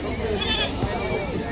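Goats bleat at a crowded goat market in Kaitla, Tangail, with a short bleat rising over dense crowd babble and nearby talk.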